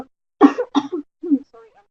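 A person recovering from the flu coughs a few times close by, in short, harsh bursts followed by a brief throat-clearing, with no words spoken.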